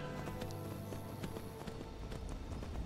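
Horse hooves gallop in a Skyrim video game while riding up a mountain, a fast, steady clip-clop rhythm of repeated thuds at close range, continuous under faint game ambience.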